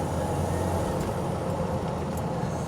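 A 1986 Ford Mustang SVO with its turbocharged engine cruising on the road, a steady, close low rumble and drone with road noise that holds evenly throughout, no voices.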